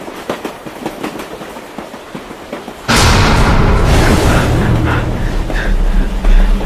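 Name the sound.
train riding along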